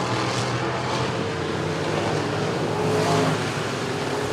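Race cars circling Clarksville Speedway during a live race, a steady loud engine roar with a slight swell as cars pass nearby, continuous throughout with no clear talk.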